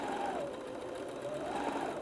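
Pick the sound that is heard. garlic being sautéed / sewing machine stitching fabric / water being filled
sewing machine stitching fabric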